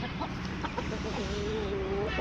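A young Aseel rooster gives a drawn-out, wavering crow of about a second, fairly close, over a steady background of other fowl and low noise.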